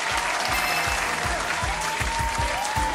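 An audience claps for the winner of a quiz show, a steady, even round of applause that holds loud and close throughout without a break.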